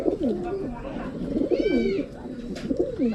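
Pigeons coo repeatedly in close succession at moderate loudness, with soft bird calls behind them, among homing racing pigeons being readied for a derby.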